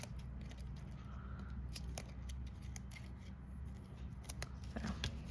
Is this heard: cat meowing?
no